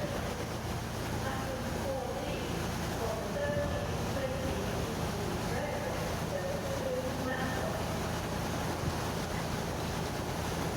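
An East Midlands Railway train pulls out of Nottingham station, giving a steady, continuous low rumble that holds at moderate distance with no voices over it.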